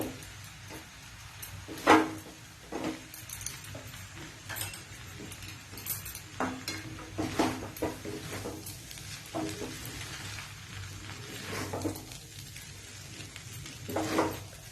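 Chowmein tossed with red chilli sauce in a pan, soft scraping and stirring with occasional clinks of a spatula against metal over a faint steady sizzle, close and fairly quiet.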